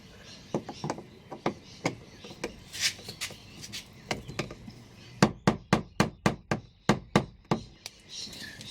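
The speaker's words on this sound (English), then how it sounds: "Okay, Lewis, it's hammer time." Hammer blows on a stuck interior trim bolt of a Merkur car, sharp metallic strikes at first irregular and spaced, then a quick regular run of about a dozen hard hits, close and loud.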